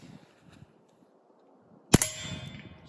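A Smith & Wesson 22 Compact pistol fitted with a Rugged Mustang suppressor fires a 42-grain Gemtech 22 subsonic round: a single sharp, metallic crack with a brief ringing decay, following a quiet stretch of faint room noise.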